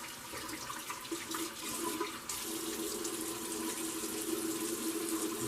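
Water from a tap runs steadily and fairly quietly to wet the base of a shaving brush, a continuous hiss and splash that brightens partway through.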